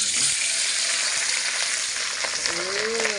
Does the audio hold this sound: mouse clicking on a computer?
no